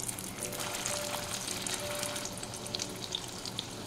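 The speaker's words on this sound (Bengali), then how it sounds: "এবার আমি চিকেনগুলো একটা একটা করে ভেজে নেব।" Chicken pieces fry in hot white oil, a steady, close sizzle and crackle running unbroken with small pops, no voices over it.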